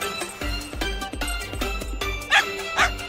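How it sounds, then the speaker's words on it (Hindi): A cartoon dog barks in an animated fire-truck rescue story, letting out a few short, bright yips over a busy, bouncy music track, with two sharper bursts near the end. "टॉर्च बदमाश कुत्ता।"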